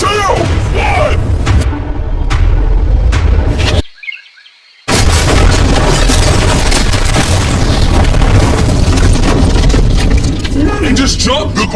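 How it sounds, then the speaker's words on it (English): A car billed as explosion-proof is blown up, a loud, sustained blast roar that cuts briefly to near silence and then returns as a long, rumbling, crackling boom with debris noise. "before we blow up this car"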